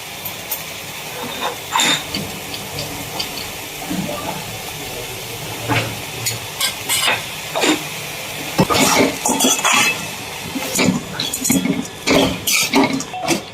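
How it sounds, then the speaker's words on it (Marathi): A spoon clatters and scrapes against a metal pot while dal is stirred into a vegetable dish on the stove, with irregular knocks and scrapes over a soft steady hiss, growing busier and louder toward the end. "ते डाळ टाकलं पण तुम्ही चांगलं हलवायचंय"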